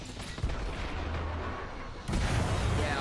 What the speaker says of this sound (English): I hope you like 7 grenades